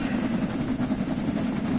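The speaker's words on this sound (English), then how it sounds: "I thought it was a train coming down." A train rumbles steadily in Train Sim World 6, a continuous, moderately loud low-pitched drone of rolling wheels and engine with no talk.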